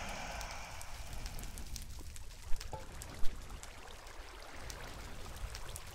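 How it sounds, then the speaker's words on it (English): Water placed in the Minecraft video game, a steady pouring, flowing wash with a couple of brief louder blips, heard alone without talk. "Let's put some water down just in case we fall"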